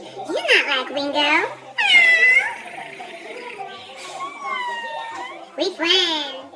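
A cat meows a few times in rising and falling cries, mixed in with someone talking close by.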